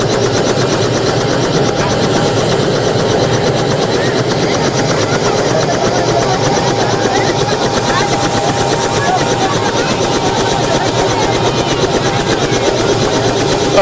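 A helicopter lands at a wedding in Araihazar, where the bride's party arrives by air. Its rotor and engine roar is loud, close and steady, with a dense chopping throb that runs unbroken from start to finish.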